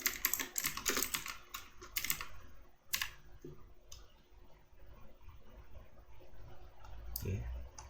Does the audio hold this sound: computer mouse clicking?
yes